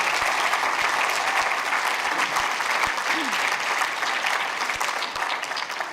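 An audience claps steadily in a cinema at a premiere screening, a dense, even applause from many hands throughout with faint voices underneath.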